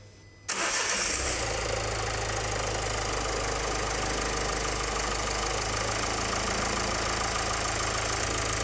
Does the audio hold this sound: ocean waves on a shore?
no